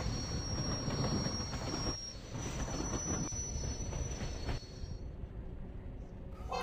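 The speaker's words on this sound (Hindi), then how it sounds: "ओ भाई, क्या था भाई, रुक गई ट्रेन" A train in a railway video game braking to a stop, steady rolling rumble with a thin high wheel squeal over it, fading toward a quieter hum near the end.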